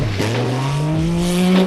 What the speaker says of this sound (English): it's the Lancia Stratos